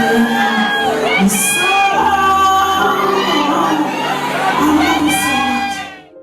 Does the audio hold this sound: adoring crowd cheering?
yes